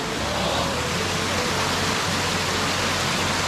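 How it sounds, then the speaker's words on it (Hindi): Water flowing in a stream at a mountain temple, heard as a steady, broad rushing wash that carries on evenly and fairly close throughout, with no voices over it. "ये भी तो धारा ही है पानी का।"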